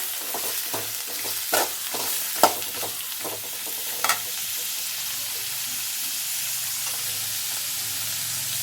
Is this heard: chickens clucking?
no